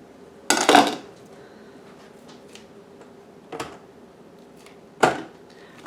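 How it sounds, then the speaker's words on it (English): Onions being finely chopped on a cutting board for dill pickle relish, a loud burst of knife strikes followed by two sparser chops a few seconds apart, close by with no talk. "We are cutting up our onions for the relish."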